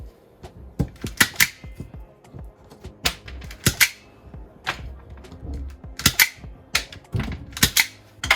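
Sharp snips of wire cutters trimming electrical wires in the ceiling of an MCI bus being converted, in irregular bursts of crisp clicks and snaps with faint rustling between cuts, close and loud.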